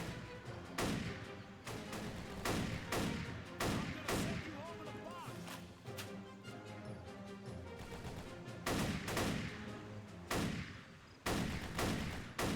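Garand rifle shots ring out repeatedly in a Battle for the Pacific war game, sharp loud cracks spaced irregularly amid heavier booms and ongoing battle noise.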